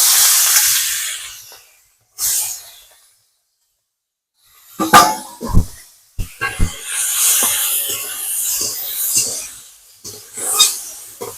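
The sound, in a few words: fish frying in hot oil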